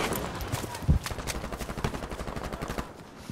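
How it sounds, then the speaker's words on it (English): Rapid gunfire in a Battlefield 5 multiplayer match, bursts of automatic fire crackling steadily with one louder close shot near the start, mixed with distant shooting and faint voices underneath. "Still getting shot at."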